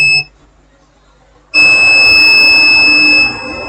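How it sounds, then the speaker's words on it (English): A multimeter in diode mode beeping while testing a fuse from a Nexus solar home system: a short tone, a pause, then a loud continuous steady beep lasting nearly two seconds, close up. "So what I want to do, my multimeter is in diode mode."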